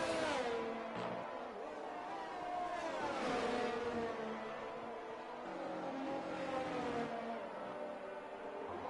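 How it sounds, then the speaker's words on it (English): An F1 race car engine in a racing video game during a Dutch Grand Prix league race, whining continuously and loudly through the gears with rising and falling revs, heard on its own. "based on the sounds of the engine going into turn 1"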